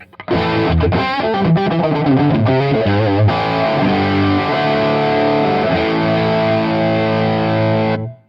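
An electric guitar played through a TC Electronic Mimiq Doubler pedal plays distorted, thickened chords and then a sustained ringing note, sounding doubled and wide, with no voices.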